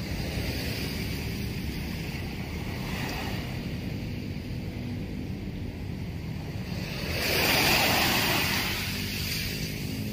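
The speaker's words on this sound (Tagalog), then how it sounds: "Kaya sa lakas ng hampas ng alon" Manila Bay waves wash continuously against the shore, a steady rushing roar that swells into a louder crash near the end.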